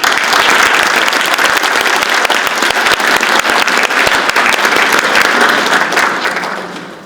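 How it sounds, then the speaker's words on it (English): A banquet audience applauding its sponsors, loud dense clapping from a large crowd that holds steady for several seconds before fading out at the end. "Let's again give a round of applause to our sponsors."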